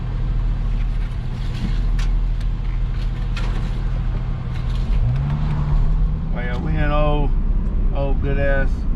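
A Ford Mustang is driving from inside the cabin, a steady low engine drone and road rumble running throughout, with a brief rising tonal sweep late in the clip.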